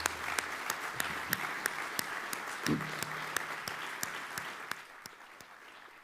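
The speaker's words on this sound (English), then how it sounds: "So again, let's applaud" Audience applause at a university president's annual address, a steady wash of clapping from a large crowd that fades toward the end, with a brief voice near the middle.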